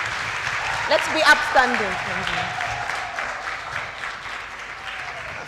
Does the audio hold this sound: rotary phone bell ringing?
no